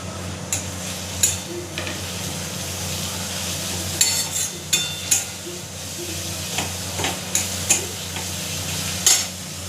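Ginger, onion and garlic paste with cumin, chilli and turmeric powder and salt fry in a small wok, giving a steady sizzle broken by repeated sharp clinks and scrapes of a spoon stirring against the metal.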